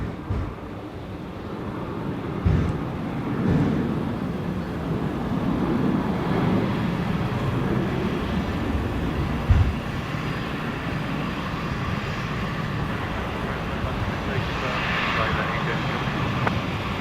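Velocity flight 354, an airliner leaving Brisbane Airport for Melbourne, makes a broad, loud roar that builds and holds throughout, with wind buffeting and a person talking over it.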